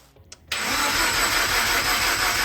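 A Mazda RX-7 13B rotary engine swapped into a Subaru BRZ catches at its first start-up after a brief cranking sound, then holds a loud, steady, even roar close by, with no talking.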